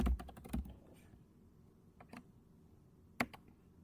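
Brief burst of keystrokes on a computer keyboard entering a password, a few quick taps at the start followed by sparse isolated clicks in a quiet room.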